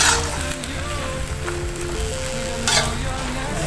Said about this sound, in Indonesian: Terakhir saya kasih saus tiram. Saus tiram. Saus tiram. Kita aduk.